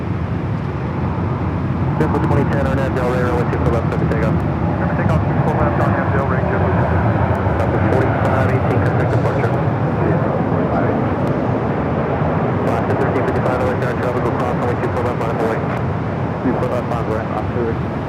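Airplane taking off from runway 24 left at LAX, a loud continuous engine roar and rumble at a distance throughout, with a radio voice talking over it.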